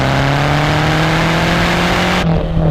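A Lancia Delta Integrale Evo 2 engine pulls hard on a mountain road toward Asiago, its loud, steady engine note rising continuously from start to finish and heard up close from inside the car.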